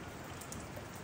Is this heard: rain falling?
yes